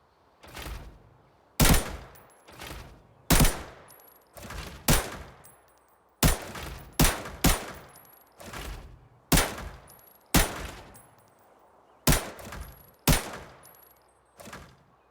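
Repeated single gunshots fired at shooting targets in the video game Arena Breakout, about a dozen sharp loud cracks at irregular intervals with short decaying tails, no talking.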